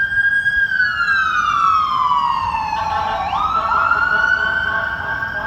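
An ambulance siren with a police car alongside wails loudly and continuously nearby, its tone sliding downward as the vehicles pass, over steady road noise.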